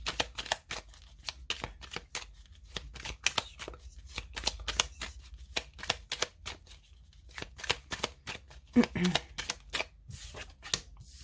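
Tarot-style cards shuffled close up, a long run of crisp rapid riffling flicks in an uneven rhythm, with a quiet low hum underneath.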